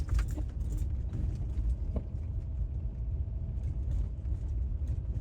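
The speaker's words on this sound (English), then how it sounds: "This gravel road is a bit bumpy, but I hope that that lake will be accessible where I'm driving right now" A car drives along a bumpy gravel road on a rainy day, with a steady low engine rumble and cabin drone, small rattles and jangles over the bumps.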